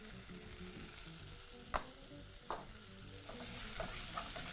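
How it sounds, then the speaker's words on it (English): Chole masala and paprika powder are stirred through in a pan over medium-low heat, a quiet sizzle under a few sharp scrapes and knocks of the spoon. "Proceed to mix through."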